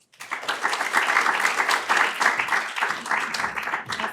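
An audience applauds steadily for about four seconds, a dense wash of many hands clapping together, fairly loud and without talk.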